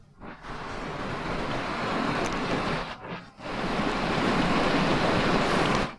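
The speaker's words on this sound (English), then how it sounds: "Here we are, down by the river." Mountain river in Chechnya rushing steadily nearby, a loud continuous broadband roar of flowing water with a brief dip midway before surging back.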